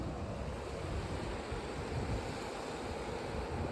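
Waves wash muddy water up onto Digha beach at low tide, a steady, close roar of surf with wind buffeting the microphone throughout and no pause.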